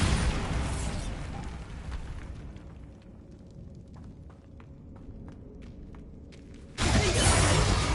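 A Bombarda spell explosion in the Hogwarts Legacy video game bursts with a loud, shattering boom, fading into a quieter rumble before a second heavy blast erupts near the end.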